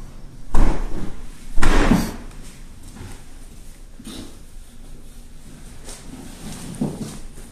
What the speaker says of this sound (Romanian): Ia ne închide ușa să nu vadă